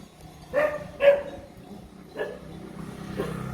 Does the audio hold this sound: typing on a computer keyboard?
no